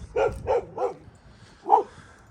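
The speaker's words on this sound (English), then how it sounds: "I like having a dog that's crazy that just barks at everything." A dog barks three times in quick succession, pauses, then gives one more bark, close and fairly loud.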